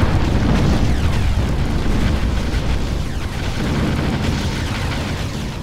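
Enemy Hoverdyne units blowing up in the real-time strategy game Ground Control during a one-on-one multiplayer match, a loud, dense, continuous rumbling explosion that roars steadily throughout without pause.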